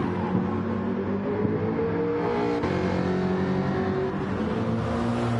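A Jaguar race car engine climbing a hill during a race, a loud, sustained engine drone with shifting harmonic tones as it pulls uphill, close and steady without pause.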